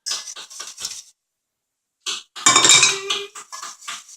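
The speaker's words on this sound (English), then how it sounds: "So make sure just to stir this" A lavender custard for crème brûlée being stirred in a pan, heard as bright metallic clinks and scrapes of a utensil against the pan in two close bursts separated by a short silence, with no voices.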